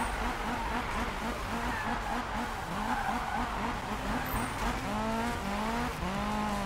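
A Volvo 242 drifts in Need for Speed, its engine droning in a pulsing rhythm, then tires squealing in rising, drawn-out screeches near the end, loud and close.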